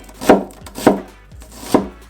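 A knife chops an onion into cubes three times on a cutting board, crisp and close, in a slow steady rhythm.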